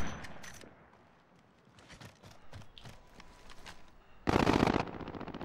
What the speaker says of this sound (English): I'll just fucking shoot at these pricks all day